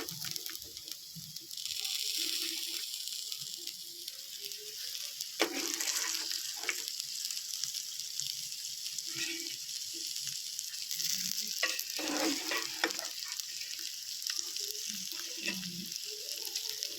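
Pieces of pork hiss and crackle in hot oil in a wok while a spatula scrapes and stirs them. The sizzle is steady and close, with no talking.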